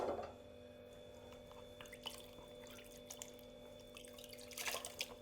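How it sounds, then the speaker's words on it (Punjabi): Water drips and trickles off a freshly dyed dupatta cloth as it is dipped in water to rinse out excess dye, soft scattered droplets falling close by against a faint steady background hum. "ਹੁਣ ਇਹਨੂੰ ਆਪਾਂ ਪਾਣੀ ਵਿੱਚ ਡਿਪ ਕਰਾਂਗੇ ਐਕਸਟਰਾ ਰੰਗ ਆ ਜਿਹੜਾ ਆਪਾਂ ਕੱਢ ਲਾਂਗੇ"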